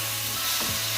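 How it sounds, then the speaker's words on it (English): Lamb searing in a pan for Rogan Josh, a dense loud sizzle filling the brief moment, with a single faint scrape of stirring partway through. "we're going to make sure that we're stirring constantly to make sure that the meat gets cooked and sealed."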